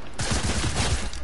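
A quick burst of rapid-fire shots from an AR rifle and a shotgun in a video game, about half a dozen close, punchy reports in just over a second.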